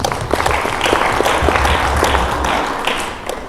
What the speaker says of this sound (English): Can we again give them a round of applause, please?